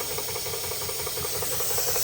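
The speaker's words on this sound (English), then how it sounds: "I've just let the whistle go to let a bit of steam out." Marklin 16051 twin cylinder model steam engine venting steam through its whistle, a steady close hiss lasting throughout over a continuous mechanical chugging.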